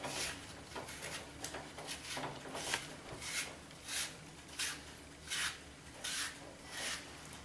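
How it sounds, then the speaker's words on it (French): An apple peeled by hand with a knife gives a steady scraping, rasping sound with repeated short strokes that settle into a regular rhythm, close and fairly quiet, with no talking. "Voilà comment je vais y prendre pour éplucher une pomme."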